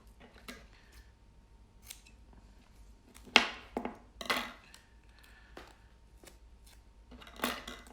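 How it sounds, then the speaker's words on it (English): Scissors snip through gaiter fabric for ultralight running and hiking gear, making a handful of sharp, close cuts spaced irregularly over a quiet background. "Just cut this piece off."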